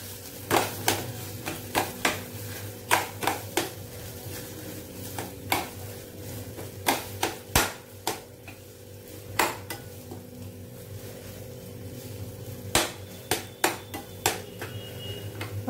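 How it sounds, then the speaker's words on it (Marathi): Vegetables with schezwan chutney and tomato sauce are mixed in a pan for a veg frankie filling, with a spoon scraping and clinking against the pan in a quick, uneven rhythm over a faint sizzle. "असं चांगलं आता मिक्स करून घ्यायचं आहे"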